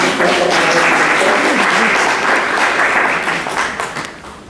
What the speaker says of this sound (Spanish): Un aplauso, por favor, para Felipe Munita.